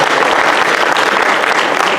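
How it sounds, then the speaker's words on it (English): Loud, dense applause from an audience at a masquerade ball gala fundraiser in the Imperial Ballroom, continuous clapping filling the whole short stretch without speech. "Julia a bit more round of applause"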